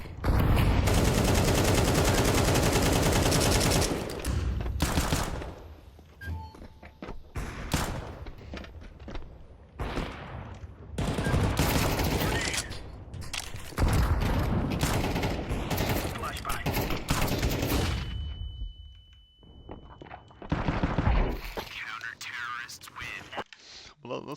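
Video game gunfire as players shoot each other, dense bursts and rapid fusillades crackling loudly in waves, with pauses and voices talking between the volleys.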